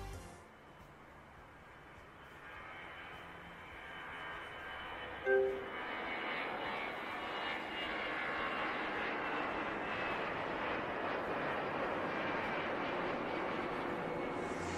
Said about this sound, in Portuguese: É possível escutar ali barulhos de aviões passando.